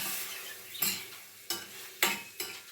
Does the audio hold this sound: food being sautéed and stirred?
yes